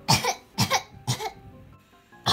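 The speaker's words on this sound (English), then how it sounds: "I just coughed up a hairball" Four harsh, throaty coughs in quick succession, close and loud, each a short rough burst with brief pauses between them.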